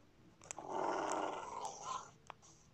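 A Minecraft wolf gives a low, rough growl that rises and rumbles for about a second and a half, close and fairly quiet, with a few sharp clicks around it.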